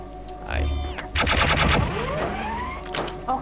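A Stanley shotgun in rapid-fire mode in the video game Gunman Chronicles lets off a quick burst of loud shots in a tight stuttering cluster, with ringing electronic tones and a game voice speaking around it.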